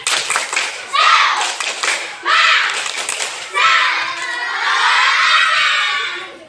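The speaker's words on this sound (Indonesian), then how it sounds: "Tepuk semangat." Schoolchildren in a classroom perform a rhythmic clapping cheer, tepuk semangat, with loud patterned claps in short bursts, then shouting and cheering voices rising together toward the end.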